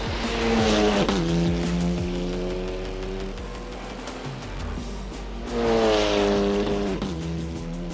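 A TCR race car at the Australian Grand Prix screams past with a loud rising and falling engine note, tires squealing, and a second car follows close behind.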